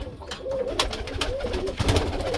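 High-flyer pigeons coo softly and repeatedly up close, overlapping low throaty calls with faint rustling and no talk.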